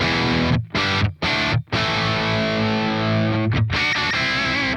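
An electric guitar on its bridge pickup plays a fat, barky mid-gain rhythm through the crunch channel of a Soldano SLO amp. Loud sustained distorted chords ring out with a few brief stops between them.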